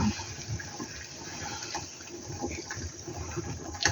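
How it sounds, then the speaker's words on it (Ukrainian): Homemade dumplings drop into a pot of salted water, heard under a steady close rush of bubbling, boiling water with faint splashes throughout. "Підсолила водичку. І зараз уже кидаю пельменьки свої."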